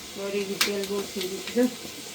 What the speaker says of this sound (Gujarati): ફૂકી મેથી નાખવાની વઘાર કરવાની